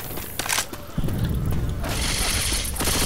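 A weapon being reloaded in Left 4 Dead 2: a loud run of mechanical clicks and ratcheting clacks over a dense game backdrop, with a heavier metallic clatter in the second half.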